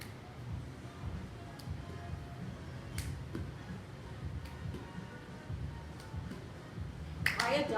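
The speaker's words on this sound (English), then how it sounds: "See if you can add a clap before you catch your ball." Sharp single hand claps during a seated ball-toss exercise, spaced a second or so apart over a low, quiet background, with a louder cluster of claps near the end.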